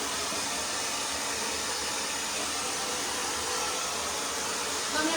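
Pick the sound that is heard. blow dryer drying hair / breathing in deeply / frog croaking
blow dryer drying hair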